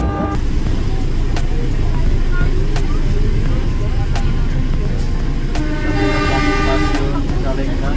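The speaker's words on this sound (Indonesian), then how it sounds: "Saat lagi kereta api Serayu akan tiba di stasiun Bandung." Serayu economy train pulling into Bandung station, a steady loud rumble of the arriving train throughout with horn-like tonal bursts near the end, amid station noise and some voices.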